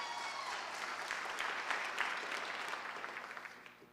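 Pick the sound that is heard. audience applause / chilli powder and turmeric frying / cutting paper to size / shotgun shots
audience applause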